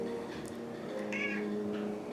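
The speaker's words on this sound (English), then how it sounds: "The cat's happy about it." A house cat meows and complains in a garage workshop during a Porsche 944 V8 swap project, with a drawn-out, wavering cry over steady low background hum.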